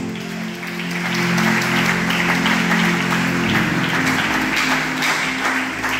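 Church congregation applauding and cheering through a French-language sermon, a dense steady wash of clapping holding for several seconds, with no speech on top.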